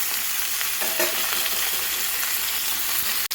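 Cut pumpkin and potato frying in a pan with turmeric and onions, giving a dense, continuous close-up sizzle with faint stirring, steady throughout and without voices.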